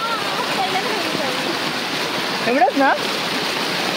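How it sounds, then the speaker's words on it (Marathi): A swollen village river runs high and fast, a steady broadband rush of water continuing throughout, with a person speaking briefly near the end. "नदीचं दिसते पात्र बघा केवढं भरलंय"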